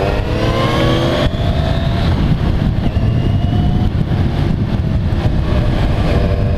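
A 2015 Kawasaki Z1000 motorcycle revs hard during a test ride, its engine note climbing in a quick rising sweep before settling into a loud, steady roar over wind and road noise.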